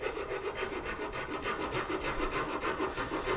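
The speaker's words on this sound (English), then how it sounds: "I'm just using the rasps and chisel, or rasps and files" Rasps and files working a flame maple guitar top, a quiet, steady rhythmic scraping with regular back-and-forth strokes close to the microphone and no voices.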